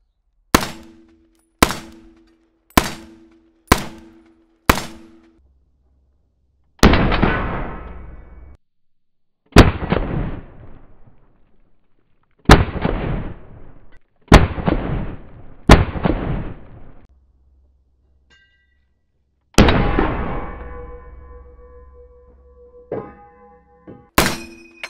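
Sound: M1 Garand rifle firing

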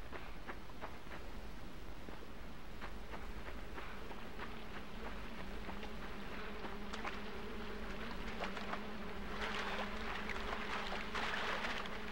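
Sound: flies buzzing in the video game Limbo

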